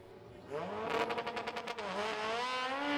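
Front-wheel-drive drag race car at a Japanese-car drag series event, its engine revving hard with a rapid stutter of limiter-like pulses, then pitch climbing steadily as it pulls away down the strip, heard from a distance.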